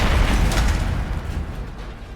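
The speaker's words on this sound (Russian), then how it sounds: "Большой взрыв" Big explosion in the Atomfall video game, a loud, continuous rumbling blast with crackling debris that holds steady for about two seconds and slowly eases off.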